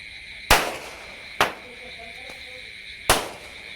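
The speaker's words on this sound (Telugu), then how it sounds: "చూద్దాం అసలు ఈ వాటర్లో ఆ అగ్గిపెట్టి బాంబు వేస్తే అసలు ఎలా పేలుతుందో" Small matchbox firecrackers go off in a tub of water, giving three sharp, loud bangs with short decays. The first two come close together and the third follows after a pause, with nothing but quiet in between.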